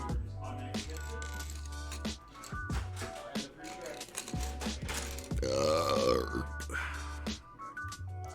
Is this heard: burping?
yes